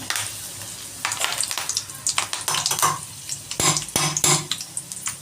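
Mustard seeds, cumin and curry leaves frying in two ladles of oil, a crackling sizzle with sharp pops and spits, plus the clink of a ladle against the pan, close and uneven, no talking.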